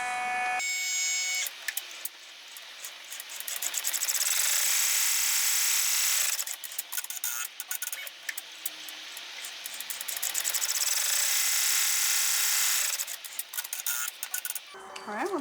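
An embroidery machine stitches a one inch in-the-hoop wrist strap, running in long steady buzzing bursts of rapid needle strikes separated by brief quiet pauses, loud and close with no talking.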